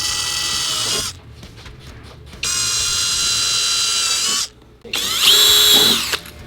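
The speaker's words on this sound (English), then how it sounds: "we're going to grab an 1/8 inch drill bit to run our pilot hole" A power drill with a 1/8 inch bit boring a pilot hole whirs in three bursts, steady high-pitched spinning with short pauses between, close and loud.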